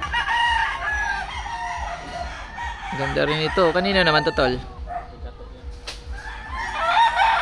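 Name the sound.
gamecock roosters crowing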